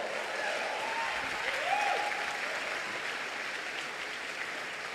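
Church congregation applauding at a sermon, a broad, sustained patter of many hands that stays fairly even, with faint voices and cheers woven in.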